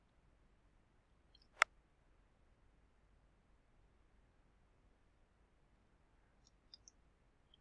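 A single sharp computer mouse click in a quiet room as an order is selected in software, followed by a few faint ticks later.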